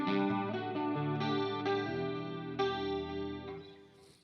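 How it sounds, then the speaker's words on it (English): Electric guitar played through a Line 6 Helix with plate reverb, delay and chorus, sustained clean chords ringing and overlapping in a lush, shimmering wash, played alone with no talking. "I'm using a plate reverb in the Helix"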